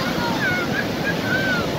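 Waves at Puri beach wash in around bare feet, a close, steady rush of surf with wind buffeting the microphone and a faint whistle-like tone drifting above.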